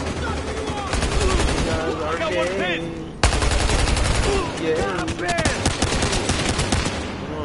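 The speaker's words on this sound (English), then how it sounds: "I'm shooting at them and it's not killing them" Rapid automatic gunfire rattles in bursts during an online shooter match, loud and close, while players talk over it.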